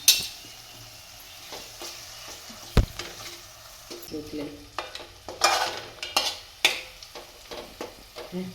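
A spoon scrapes and stirs ginger into a Gujarati corn curry in a pan, with soft sizzling and intermittent clinks against the metal. The stirring picks up in the second half.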